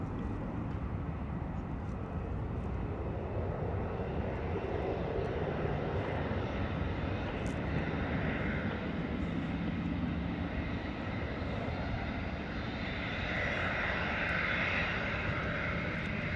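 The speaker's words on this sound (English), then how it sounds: "Beautiful departure there from the Wizz Air, absolutely fantastic." A Wizz Air airliner departs, its jet engines giving a steady, broad roar that holds loud and constant throughout, swelling slightly toward the end as it climbs away.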